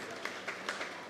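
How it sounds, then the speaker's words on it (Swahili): A church congregation at a main service claps in a short, dense burst of applause that stays at an even level throughout. "Tupie wase makofi mazuri"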